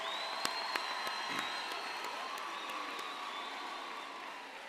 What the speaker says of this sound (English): let's give a round of applause to all of our adaptive graduates